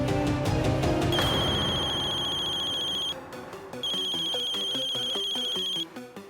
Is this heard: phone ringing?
yes